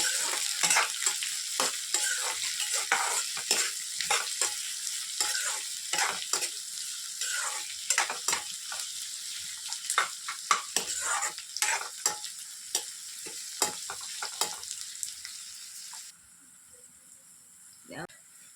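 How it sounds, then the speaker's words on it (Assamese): Chopped onions with dried red chillies fry in oil and are stirred steadily, giving a continuous close sizzle with repeated scraping strokes of the spoon. Near the end the sizzle fades to a quieter hiss. "দেখিছেনে পিঁয়াজখিনি মই ভালদৰে লৰাই ল'ম।"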